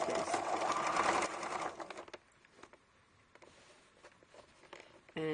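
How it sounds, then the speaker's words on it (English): A sewing machine runs fast and steady, stitching a quarter-inch seam on a fabric pillowcase, loud and close for the first two seconds, then stops, leaving faint handling sounds and a brief burst of stitching at the end. "I'm going to just stitch with a 1/4 inch seam."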